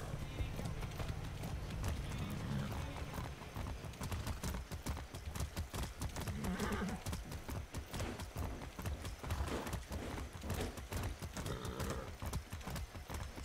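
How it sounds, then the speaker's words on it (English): Rapid, steady clip-clop of horse hooves galloping in the video game Far Cry 6, continuous and close, with occasional talking layered over the hoofbeats. "That's a good horse."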